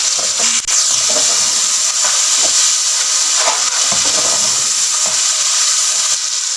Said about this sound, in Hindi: लहसुन फ्राई हो चुका है। अब हम इसमें टमाटर डालेंगे।